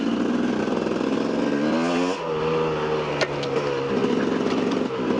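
A KTM 250 EXC enduro motorcycle rides along countryside trails, its engine buzzing steadily close by, with a brief drop and a shift to a lower, steadier drone partway through.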